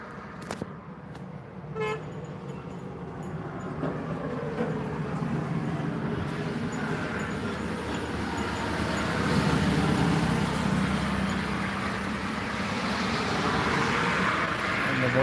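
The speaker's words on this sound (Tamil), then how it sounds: "பாருங்கள் வாகனங்கள்லாம் எந்த வேகத்தில் போகுதுன்னு பாருங்கள்" Fast traffic on a national highway in Tamil Nadu rushes past as a loud roar that swells toward the end, with a horn toot early on. Voices are faint beneath the road noise.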